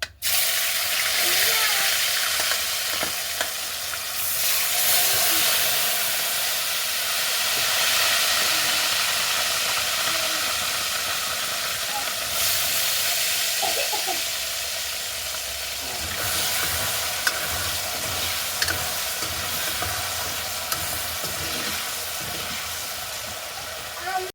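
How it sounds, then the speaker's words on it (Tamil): Salted potato pieces fry in a pan while being stirred, a loud continuous sizzle and hiss with scraping stir sounds running throughout. "எங்களுக்கு உருளைக்கிழங்கும் நல்ல வடிவாக பொறிஞ்சு வந்துட்டு"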